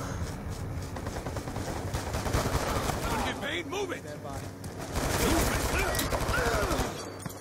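Dense bursts of automatic gunfire and explosions from Call of Duty: Black Ops 2 on the Nuketown map, a busy near-constant barrage with voices talking over it.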